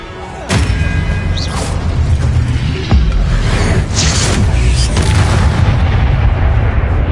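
A heavy magical blast from the Expelliarmus spell in Hogwarts Legacy, played on PS5, hits as a loud booming thump and is followed by a second impact and rumbling bursts.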